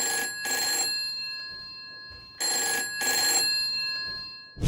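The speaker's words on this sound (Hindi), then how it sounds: "फोन की घंटी बजी" A telephone bell rings in two clear bursts, each a pair of bright trilling rings separated by a pause, loud and close with no talk.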